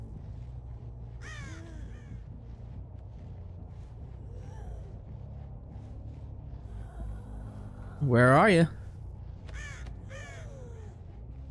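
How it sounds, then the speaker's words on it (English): Crows caw in Dead by Daylight, several harsh calls scattered over a low ambient rumble, one loud near caw standing out midway, with a voice speaking briefly. "Birds, shut up."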